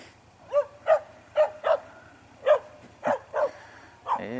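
A dog barks repeatedly at a passing motorcycle on a commute, about eight sharp, fairly close barks in an uneven rhythm over a low engine rumble, with a short yelp at the end.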